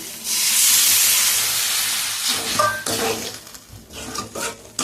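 Water poured into a pan of sizzling cooked-down spice mix with cumin bursts into a loud hiss of steam that slowly fades into softer bubbling and crackle.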